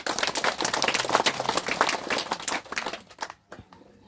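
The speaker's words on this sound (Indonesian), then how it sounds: "Tepuk tangan." Crowd clapping at a land reconciliation ceremony in Hokeng, brisk and loud at first, then thinning into scattered claps before a brief lull and a few last hand strikes.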